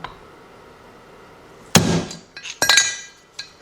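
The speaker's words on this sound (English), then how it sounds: "Take your hammer." A few sharp metallic hammer strikes tapping an engine part into place on a 2006 Kia Sportage 2.7 engine ring out after a quiet stretch, one loud hit followed by a quick cluster of taps and a lighter final knock.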